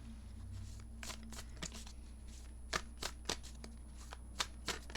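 Tarot cards being shuffled by hand in a quiet room, a run of crisp riffling flicks and sharp card snaps spaced irregularly over a steady low hum, close and fairly loud.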